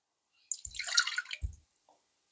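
About one and a half glasses of water poured into a cooking pot with butter and salt for okra dough, a brief close splash and gurgle lasting about a second, then a faint drip.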